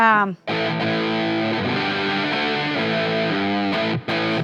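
An electric guitar through a Tube Drive overdrive pedal with warm, gritty old-school overdrive plays sustained chords and notes, loud and close, with a couple of brief pauses between phrases.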